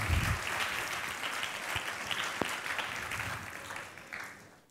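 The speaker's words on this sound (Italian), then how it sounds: "Andrea Oddo, applauso, è l'ultimo" Audience applause for a contestant at the FameLab Italia 2020 regional final in Trieste, fairly quiet, even clapping from a modest crowd that fades toward the close, with a few low thumps mixed in.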